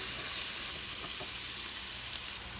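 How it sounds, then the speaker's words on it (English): Grated large garlic cloves sautéing with onion in a pan on low heat give a steady, soft sizzle and hiss, even and unbroken, with no voices. "I'm going to add 3 grated large garlic cloves and saute with the onion."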